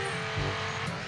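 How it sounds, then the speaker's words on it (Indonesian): A video game car drives uphill on a mountain road, a steady close engine drone with no break across the short stretch. "Apakah mobil ini bisa mendaki gunung ini guys?"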